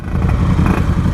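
A big-displacement BMW GS motorcycle rumbles past close by at night, a brief loud low engine drone with a slight clatter.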